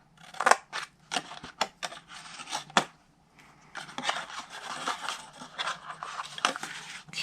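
Scissors snip cardstock for a Stampin' Up! Cactus Cuties double-topped box, in a run of sharp close cuts, a short pause, then steadier rasping strokes as the blade slices straight along a rectangle.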